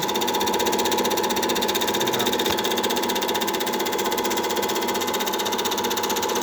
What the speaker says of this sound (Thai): เป็นภาพที่ฉายจากเครื่องฉาย 8 มม ฟูจิสโคปนะครับ